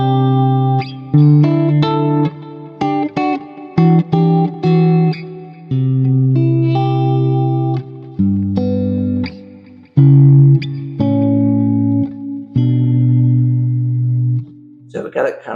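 A clean electric guitar tone through a Quad Cortex with delay and lush reverb, playing a sequence of clear melodic notes and chords with echoing tails and brief pauses, no voices over it.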